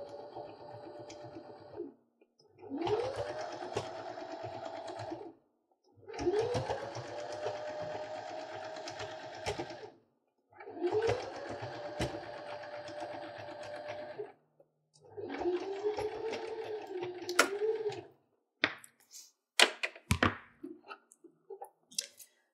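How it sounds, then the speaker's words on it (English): A sewing machine stitches quilt layers along the seam line. There are four long runs of fast, even whirring, each separated by a short pause, followed by a shorter burst and a few clicks and handling knocks at the end. "Make sure it's perpendicular in your machine."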